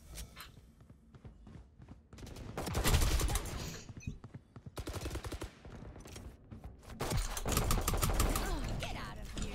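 Gunfire in a first-person shooter video game, clusters of rapid shots and bursts in several volleys, with footsteps and thuds between them.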